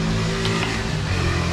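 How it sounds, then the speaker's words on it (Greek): A motorbike rumbles past nearby, a steady loud engine drone that holds throughout with no talking. "Να περάσει το μηχανάκι πάλι."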